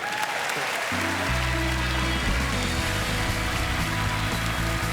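Audience applause at the 76th Primetime Emmy Awards in the Peacock Theater, Los Angeles, a dense steady clapping crowd throughout with music playing underneath.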